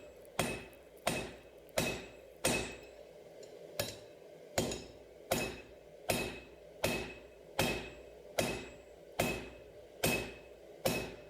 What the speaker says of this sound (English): I'm just going to hammer in a normal shape of a knife